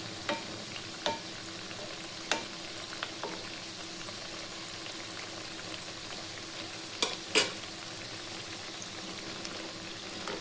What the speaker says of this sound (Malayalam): ഇനി മറ്റേ ഭാഗവും ഫ്രൈ ചെയ്തെടുക്കാം.